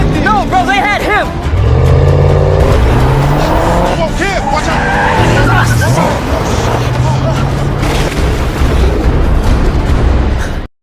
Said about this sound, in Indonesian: Kevin langsung menginjak pedal gas hingga aksi kejar-kejaran pun akhirnya dimulai